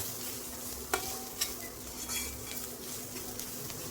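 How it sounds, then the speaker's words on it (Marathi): Four or five crushed garlic cloves frying in a pan for a bitter gourd dish, a quiet steady sizzle with a couple of sharp utensil knocks against the pan, and no voices. "4-5 पाकळ्या आपण लसणाच्या ठेचून घेतला होता, तो टाकूया. लसूण छान फ्राय झाला की आपण याच्यात मसाले टाकूया."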